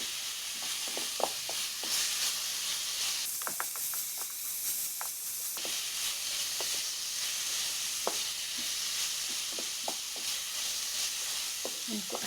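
Radish chutney with chilli powder and spices being stirred in a pan over a low flame, giving a steady soft sizzle broken by irregular scraping clicks of the spoon against the pan, close and continuous with no talk.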